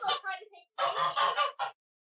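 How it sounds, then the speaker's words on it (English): A goose under attack by an eagle in a backyard honks loudly in several harsh bursts, a short pair then a longer run of squawking calls, close and without talk. "here comes a eagle attacking a goose right in the backyard"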